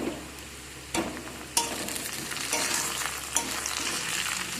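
Chopped tomato added to garlic frying in a pan for a meat curry, a sharp burst of sizzle at the drop followed by steady crackling frying and a few stirring knocks, close and without speech.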